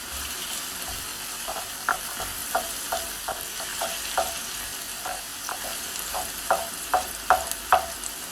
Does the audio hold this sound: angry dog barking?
no